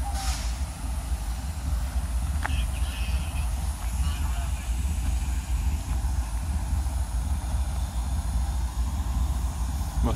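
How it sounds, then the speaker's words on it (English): A train approaches a road crossing in Valley Head, Alabama, a steady low rumble holding throughout with a faint horn-like tone near the start. "Let's see if we can get across before the train gets here."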